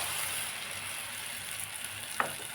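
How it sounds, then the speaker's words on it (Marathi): Gram flour and chutney spice paste added to fried onion in a pan for an okra masala, giving a continuous soft sizzle with a brief clink near the end, no talking. "त्याच्यामध्ये टाकते मी आता बेसन पीठ आणि चटणीचा घोल"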